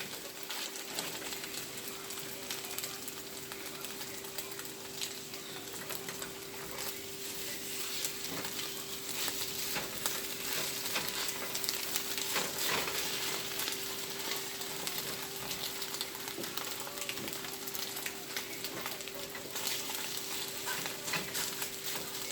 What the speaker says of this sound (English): I'm going to cook the chicken.